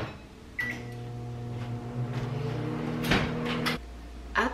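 Household microwave oven running one-minute cycle: a door clunk, then a steady electric hum with a tonal drone, a clatter partway, and a click as the hum stops and a lower buzz remains, close by.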